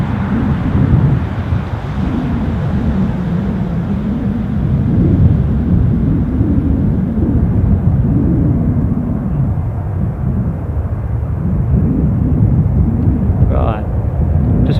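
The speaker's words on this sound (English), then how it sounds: "And then out of the gloom rose a Ryanair Boeing 737" A Ryanair Boeing 737 climbs away from Newcastle International airport in gloomy weather, a loud continuous low roar of jet engines heard from a distance, rumbling steadily with wind buffeting the microphone throughout.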